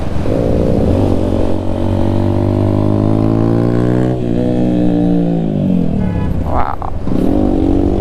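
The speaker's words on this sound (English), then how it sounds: "the traffic is getting pretty intense" Dense road traffic approaching Lima, heard from a motorcycle moving with it: loud, close engine drone with rising and falling revs, passing vehicles and brief clatter.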